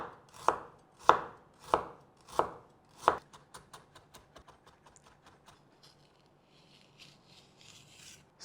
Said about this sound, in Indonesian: Selanjutnya kita akan cincang halus jahenya.